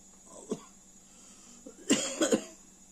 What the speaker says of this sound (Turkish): Kusura bakmayın hala biraz böyle hala öksürüyorum.